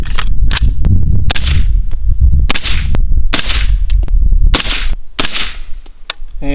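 A rapid string of sharp, very loud shots from an MK18 pistol firing Hornady Critical Defense .223 rounds outdoors, each crack followed by a short booming tail, at close range.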